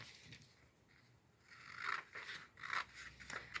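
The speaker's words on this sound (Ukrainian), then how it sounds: "Беремо папір фіолетового кольору, складаємо навпіл і ножицями розрізаємо по лінії згину." Scissors cut along the fold of purple paper folded in half during a children's paper craft, producing faint close scraping snips in a few short bursts with no talk.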